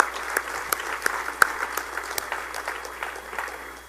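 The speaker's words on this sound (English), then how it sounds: "a round of applause to these guys" Steady applause from a crowd, continuous clapping with a few sharper claps standing out, at moderate volume with no talking.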